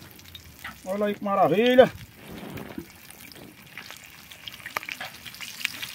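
Large freshly caught fish dropped into hot boiling oil in a pan, a steady crackling sizzle that carries on under a voice, loud and close, with a brief splash as the fish go in.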